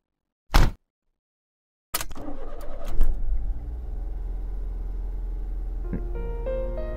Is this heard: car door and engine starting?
yes